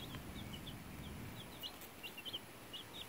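Week-old White Leghorn chicks give thin, high cheeps in scattered bursts that grow busier toward the end, faint over a hissy room background.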